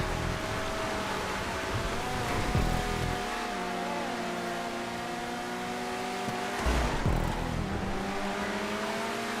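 Race car engine in a GTA 5 rallycross video game race, a continuous loud revving drone under full acceleration with rising and falling pitch and occasional gear shifts, the engines of other cars layered in the mix.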